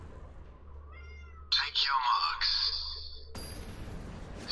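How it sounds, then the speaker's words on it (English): A bossy house cat meows loudly and close by: a soft chirpy mew, then a longer, insistent drawn-out meow, while someone talks in the background. "Very bossy cat."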